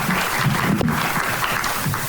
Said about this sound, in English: Will you guys give them all a round of applause just to welcome?